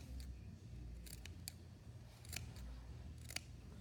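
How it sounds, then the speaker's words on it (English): Scissors snip into the curved seam allowance of a sewn Christmas stocking, cutting through fabric, lining and batting: a handful of crisp, close cuts in uneven clusters over a low room hum. "we are going to snip into our curve all the way around"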